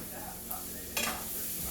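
Seasoned ground beef for homemade chili cooking in a pan, with a quiet sizzle and a couple of short scraping stirs, heard close and soft.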